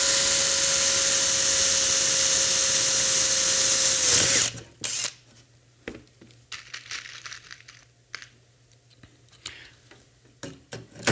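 A power drill bores a rivet hole in a launcher clamp, a loud, steady high whine that holds for about four seconds and then stops abruptly, followed by quieter clicks and handling noises of the parts.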